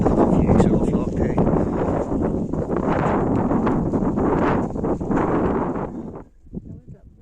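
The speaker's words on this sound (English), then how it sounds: "Sorry, it's very, very windy." Strong wind gusts across an open hillside on the Wicklow Way, roaring loudly against the microphone in surges before suddenly dropping away near the end.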